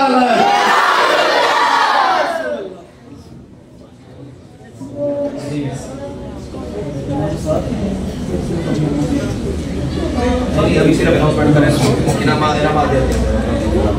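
A large crowd at a children's speech competition announcement shouts in unison in answer to a Takbir slogan, a loud massed roar that swells, dips briefly, then rises again and holds, with voices mixed through it.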